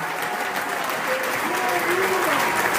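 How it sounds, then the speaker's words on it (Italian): A crowd at a Lega party festival in Palazzago, Bergamo, applauds the League's mayors with sustained, dense clapping in a large gathering, while a speaker's voice carries faintly over it. "fate un applauso ai sindaci della Lega che sono le nostre sentinelle sul territorio"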